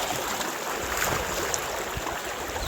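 Cold stream water rushes in a steady, close broadband wash where crabs are being hunted, with no speech.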